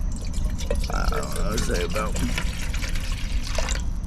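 Water poured from a bottle into a bowl of grits, a bubbling, gurgling trickle running under a man's speech.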